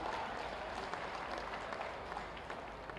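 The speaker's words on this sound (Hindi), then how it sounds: "इस शुभ घड़ी के लिए जोरदार तालियां होनी चाहिए" Crowd applause at a ceremony for Maharaja Suheldev's birth anniversary attended by the chief minister and prime minister, a dense steady roar of clapping, faint and distant, with no talk.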